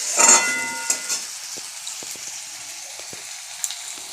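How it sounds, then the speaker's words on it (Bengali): Fish frying in a pan for a simple home-cooked meal gives a soft, steady sizzle, louder at first and then settling into a low crackle with a few faint clicks, with no voices. "একটা মাছ আছে, ওর জন্য দুটো এখন ভেজে দিই"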